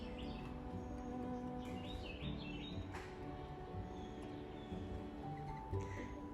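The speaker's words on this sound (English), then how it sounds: "I could just hear the singing of the birds." Birds chirp and tweet in a quiet garden on a calm morning, scattered faint calls over a soft background hum with no voices.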